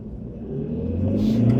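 A Toyota Hyryder pulls away in power mode, its engine note rising steadily into a close, loud acceleration hum with no talking.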